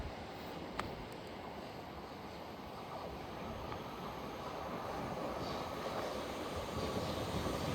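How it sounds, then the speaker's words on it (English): Thameslink train passing South Croydon on the Brighton Main Line, a faint, steady rolling rumble of wheels on track that builds gradually, with a sharp click early on. "Then we're going to have the Thameslink service coming by."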